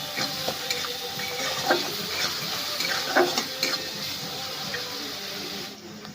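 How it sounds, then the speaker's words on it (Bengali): Spices fry in a hot pan for a vegetarian papaya curry while a spoon stirs them. Soft steady sizzling sits under scattered scraping strokes and light clinks of utensil against metal, close and moderately quiet. "এগুলো আমি ভালো করে একসাথে নাড়াচাড়া করে ভেজে নেবো, যাতে গন্ধ না থাকে মশলা।"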